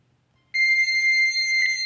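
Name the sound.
quiz timer sound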